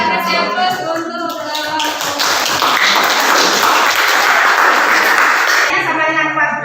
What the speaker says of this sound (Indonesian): Ya, kita kasih aplaus untuk